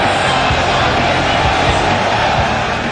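Football crowd at Kallang National Stadium in Singapore, the famous Kallang Roar, a dense, loud, continuous roar of many voices with rhythmic low chanting inside it.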